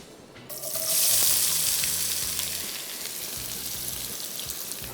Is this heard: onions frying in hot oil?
yes